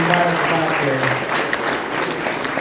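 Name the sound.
audience applause at robotics competition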